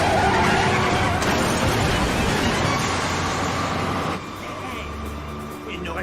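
A racing craft in the animated series Oban Star Racers brakes hard and skids, a loud rough scraping roar that holds for several seconds before dropping to a lower rumble, with voices over it.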